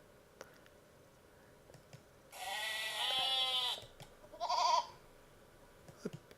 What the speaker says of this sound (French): Alors là c'est un agneau.